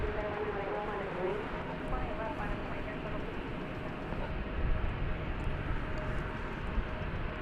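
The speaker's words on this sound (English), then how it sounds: "Looks like the Dreamliner is making the big turn here." A Boeing 787 Dreamliner turns on the ground at DFW Airport, heard as a faint, steady engine hum with a thin tonal whine, while a person talks over it.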